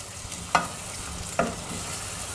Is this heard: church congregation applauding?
no